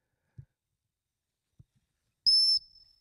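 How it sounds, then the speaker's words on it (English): A sharp, high dog training whistle sounds once, a brief loud blast that trails off, after a few faint thumps in an otherwise quiet outdoor setting. "So Mark gives the whistle to get her to stop and look at him."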